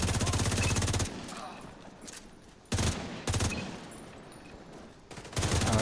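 Machine-gun fire in The Division 2, loud rapid bursts repeating in several separate strings with short gaps between them, close and harsh, with a voice talking in the quieter stretches.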